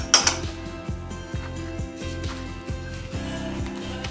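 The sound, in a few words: mixing beaten egg and cream for keto muffin batter in a bowl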